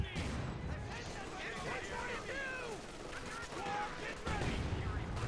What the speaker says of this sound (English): Riflemen quickly falling back there in the face of heavy machine gun fire there